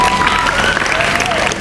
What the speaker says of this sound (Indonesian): Tepuk tangan ya untuk Azra